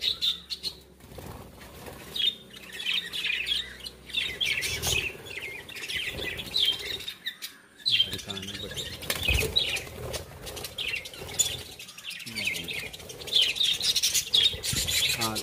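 Lovebirds in a nest box in a home courtyard give bursts of high squawks and chirps, broken by sharp, loud wing-flapping scuffles, close and busy for the whole stretch.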